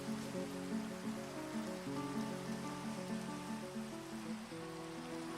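Steady, even rain falls in a modded video game. The wash is continuous and fairly quiet, with a low tonal drone underneath and no voices.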